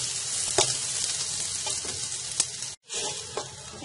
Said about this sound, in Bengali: মশলাটা দিয়ে নিয়েছি, এখন একটু কষিয়ে নিচ্ছি।